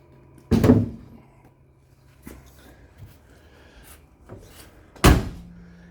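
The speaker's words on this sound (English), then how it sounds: "If I get the hood to pop." The hood of a Saab 900 manual turbo pops with a sharp metallic thunk, followed by fainter clicks and rattles and a second loud clunk. The sounds are close, with no talking.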